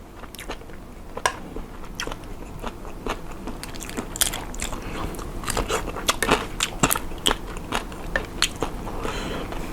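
Close, crunchy chewing and biting while eating Thai baked shrimp with glass noodles dipped in seafood sauce, with many sharp crackly bites in a steady, irregular rhythm and no talking.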